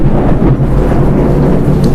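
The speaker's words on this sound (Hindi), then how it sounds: "आज खूब ज़बरदस्त बारिश हो रहा है" Heavy downpour with rumbling thunder during a rainy morning, a dense continuous roar of rain on surfaces with deep low rumbles throughout, loud and close, no voices.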